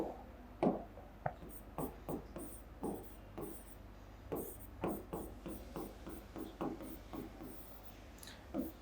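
Chalk scratching out writing on a classroom board during a physics lesson, a run of short taps and strokes in irregular rhythm, close and fairly faint.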